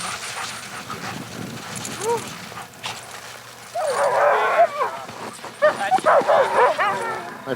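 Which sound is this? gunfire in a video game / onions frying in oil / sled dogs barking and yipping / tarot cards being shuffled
sled dogs barking and yipping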